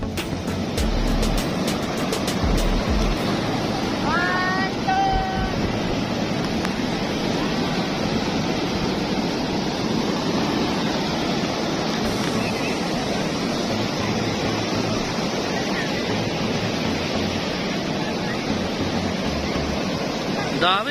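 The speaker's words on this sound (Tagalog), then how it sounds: "sobrang lakas ng alon" Continuous roar of strong surf with waves breaking at Bagasbas Beach, Daet, loud and steady, plus some faint chirps and wind over the whole stretch.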